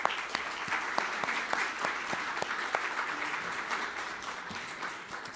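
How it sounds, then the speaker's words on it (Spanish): Church congregation applauding during a Sunday service, a moderate room of hands clapping with several sharp individual claps standing out before it gradually thins. "Demos un aplauso a los hermanos."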